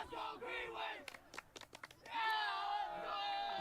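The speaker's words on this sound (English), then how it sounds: "And here comes the Abington crowd." Fans at a high school varsity soccer game between Abington and Rockland shout and cheer. Voices swell, break into scattered sharp bursts, then rise again into sustained yelling, heard from the sideline.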